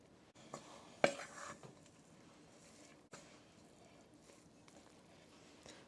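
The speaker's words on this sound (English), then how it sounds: "Now there's a little bit of flour stuff on the spoon yet. We'll scrape that off and mix that in yet." A spoon scrapes a bowl to mix in leftover flour for a blueberry dessert, making a few faint, brief scraping knocks with a sharper clink near the start, in a quiet room.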